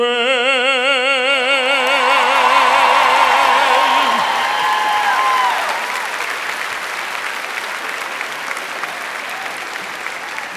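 Loud, sustained applause from a College of Central Florida spring graduation crowd. A sung final note rings over it at first, then fades, and the clapping carries on alone at a slightly lower, steady level with a few scattered whoops.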